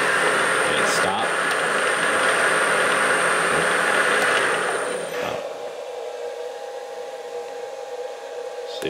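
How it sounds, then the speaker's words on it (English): A machine tool's motor runs loud and steady, then winds down quickly after the stop switch is pressed, leaving a quieter hum with a faint tone; a voice speaks over the running motor. "See, it stops the motor pretty fast."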